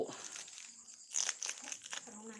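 Tissue paper wrapped around a plant's soil crinkles softly while a parcel from an online shopping app is unboxed, brief rustles and crackles with a louder burst midway, under someone talking.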